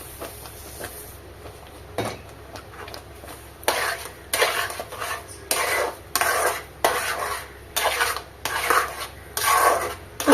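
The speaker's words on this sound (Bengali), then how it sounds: "তার জন্য আমি সবসময় নাড়তেই আছি" A spoon scrapes and stirs a raw mango and sugar mixture in a pan, making repeated rhythmic scraping strokes, close and fairly loud, with no talk.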